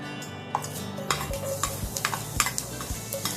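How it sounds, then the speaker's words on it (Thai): Close-up stir-frying of chopped garlic in oil: a utensil scrapes and taps irregularly against a pan over a soft, steady sizzle of oil. "แป้งจะผัดกระเทียมให้หอมเลยนะคะ"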